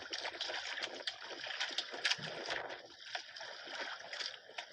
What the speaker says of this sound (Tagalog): Malalaki ang alon eh.